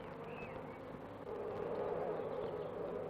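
Flying insects buzz faintly and continuously, with a droning hum that grows slightly louder partway through.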